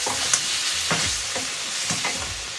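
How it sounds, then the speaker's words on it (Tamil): Ginger garlic paste frying in a pan for a chicken kulambu, stirred with a spoon, gives a steady close sizzle broken by several scraping stir strokes, with no talking. "இஞ்சி பூண்டு பேஸ்ட்லேயும் நல்லா ஒரு 5 நிமிஷம் ஃப்ரை பண்ணி எடுத்துக்கோங்க."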